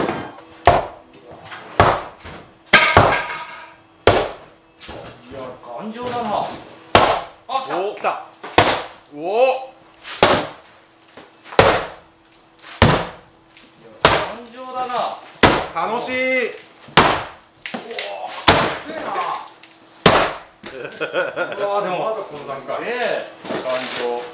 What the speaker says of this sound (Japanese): ちょっと無意味に一発ハンマーでぶったたいていい